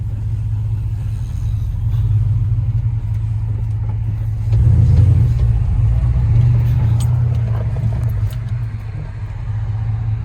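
A second-generation Dodge truck engine idles with a deep steady rumble close by, then rises briefly in a rev before settling back to idle, with faint rattles over the drone.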